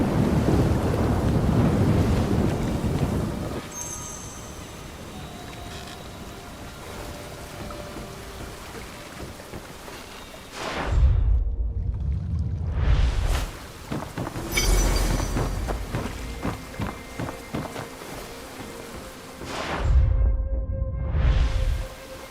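Steady rain and distant rolling thunder in the game Where Winds Meet, a dense hiss of rainfall throughout with several deep, loud thunder rumbles swelling and fading, no voices.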